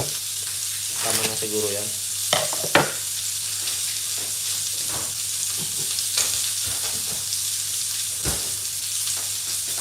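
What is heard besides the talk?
longganisa boiling and sizzling in a pan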